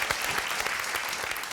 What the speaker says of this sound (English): You deserve more applause, but this is all we have.